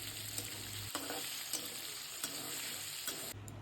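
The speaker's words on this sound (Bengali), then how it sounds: "আবারও ওই কড়াইতে তেল দিয়ে তাতে দিয়ে দিচ্ছি আলুর টুকরোগুলো আর লবণ আর হলুদ" Potato pieces with salt and turmeric fry in oil in a kadhai, making a continuous soft sizzle broken by a few stirring clinks and scrapes, with no talking.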